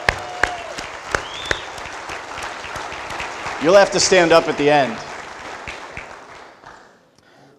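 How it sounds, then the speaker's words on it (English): A hall of fame ceremony audience claps briefly in a few sharp, scattered bursts. A voice then speaks over the fading sound and it trails off into quiet. "we can just give Coach a special round of applause wherever he is"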